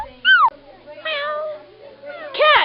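A house cat meows several times in drawn-out, rising and falling calls, close by and fairly loud, with short quiet gaps between them.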